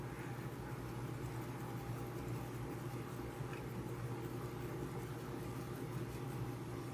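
Kitchen blowtorch caramelizing sugar on a vegan crème brûlée puts out a steady, unbroken roaring hiss, fairly quiet and continuous, with no talking.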